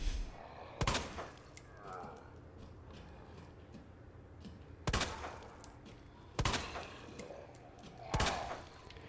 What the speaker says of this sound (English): Make sure you actually hit them when you're shooting at them